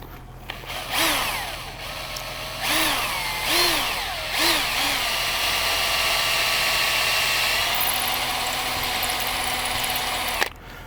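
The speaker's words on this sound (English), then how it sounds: "I'm going to drill those out for the dowels now." A power drill with a sharp bit and no hammer action whines up and down in several short bursts drilling dowel holes in stone, then settles into a long, steady, loud drilling run before stopping abruptly.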